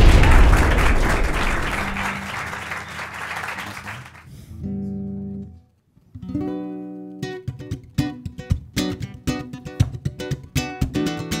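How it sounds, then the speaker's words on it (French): A television show audience claps loudly for a guitarist, the dense applause fading out over about four seconds before a brief hush and then plucked guitar notes. "Je vous demande d'applaudir ce soir"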